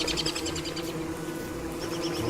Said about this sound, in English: Snatch a bee, bad things are gonna happen.